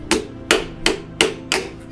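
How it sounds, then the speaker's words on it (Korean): A silversmith hand-hammers silver into a cup: six sharp, ringing metallic blows, evenly spaced about a third of a second apart, close and loud with no talk. "망치질 소리는 내내 작업자를 따라다닙니다."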